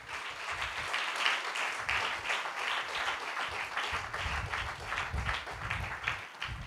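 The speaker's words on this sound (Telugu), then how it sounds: "చప్పట్లు కొట్టండి గట్టిగా." A congregation at a Christian sermon claps loudly and continuously, many hands together in a steady, even roar with a low rumbling undertone throughout.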